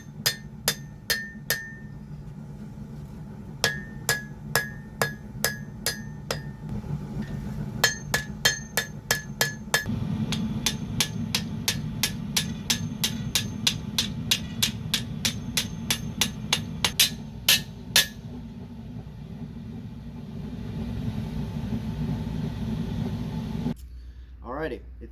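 Hammer striking a katana blade during forging and straightening, sharp ringing metallic blows in irregular bursts, sometimes rapid, over a low steady hum of shop equipment, then stopping near the end.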